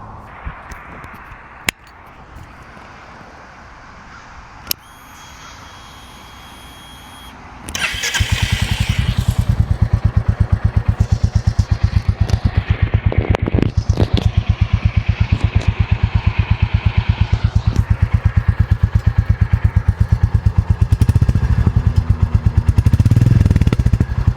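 A Royal Enfield Classic 350 motorcycle engine cranks and fires up, then settles into a loud, steady, throbbing idle with rapid regular pulses, no talking.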